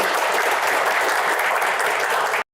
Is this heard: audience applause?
yes